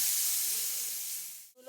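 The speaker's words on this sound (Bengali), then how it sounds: "আর মাছ ভাজা খাওয়ার জন্য আমি ফ্রাই প্যানে মাছ দিয়ে দিলাম।" Turmeric- and salt-rubbed fish pieces frying in a frying pan with little oil, a loud steady hiss and sizzle that fades gradually before a brief cutoff.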